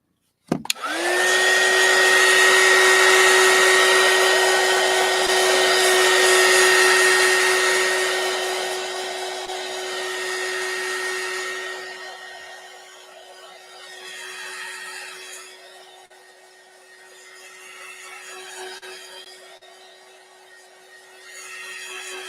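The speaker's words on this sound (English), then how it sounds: "So we'll dry this a little bit." A hair dryer blows loud and close onto wet craft paint, a steady whirring roar with a high whine that runs unbroken for about twelve seconds before the airflow wavers and fades and returns, with no talking.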